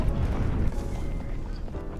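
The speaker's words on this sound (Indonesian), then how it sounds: "tak jauh dari tempat itu sebuah ledakan terjadi lagi" A deep, rumbling explosion in a film, with heavy low-end boom that lingers and fades into a dense roar, loud and close, with no voices.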